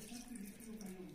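Water drains steadily from freshly washed rice in a home kitchen, a soft continuous trickle and splash with a low hum underneath, lasting about a second.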